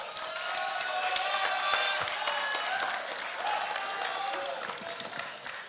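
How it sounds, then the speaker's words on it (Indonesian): A crowd applauds a candidate for general chair at a HIPMI debate, with dense, continuous clapping and faint cheering voices mixed in. The applause stays steady and slowly tapers toward the end. "kita berikan tepuk tangan untuk Caketum nomor urut 2"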